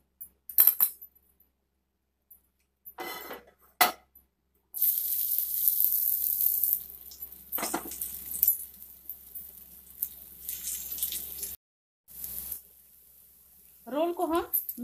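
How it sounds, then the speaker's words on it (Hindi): An arbi (taro) leaf roll fries in oil in a pan over a medium flame, giving a steady hissing sizzle for several seconds. Kitchen clatter and brief speech-like sounds come before and after. "रोल को हम मीडियम फ्लेम पे फ्राई करेंगे।"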